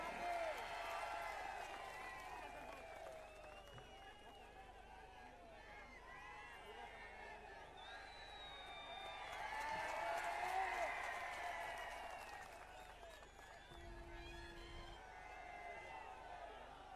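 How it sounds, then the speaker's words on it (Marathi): A crowd at an election campaign rally in Jalgaon claps to welcome a candidate, with sustained applause and scattered cheers swelling and fading, heard from a distance with a voice talking over it. "उमेदवार आले, जरा टाळ्या वाजून त्याचं स्वागत करा."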